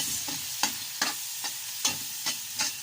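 Tomatoes are stirred and mashed in a sizzling frying pan, a spatula scraping in regular strokes about every half second over a steady background fry, close and fairly quiet, with no talking.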